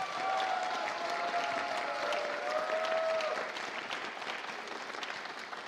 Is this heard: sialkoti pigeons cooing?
no